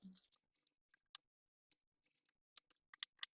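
A knife chops a peeled onion on a cutting board in quiet, sparse clicks and taps, a dozen or so irregular light strikes close by with no talking.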